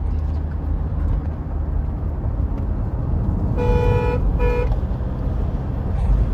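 A 2015 Toyota Innova drives at high speed with a steady engine and road rumble, and a horn toots twice in quick succession partway through.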